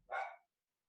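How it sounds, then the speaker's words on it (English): A single short dog bark, fairly close and clear, cut off quickly and followed by silence, with no talking. "My dog's barking."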